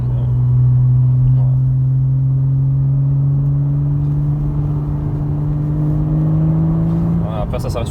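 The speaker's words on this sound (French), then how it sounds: "il y a une sorte de drone avec le pot Evox à 2000 tours minute" A Porsche Boxster S flat-six with a stainless Evox exhaust drones at about 2000 rpm, a steady low hum holding for several seconds before a brief shift near the end, with voices faintly present.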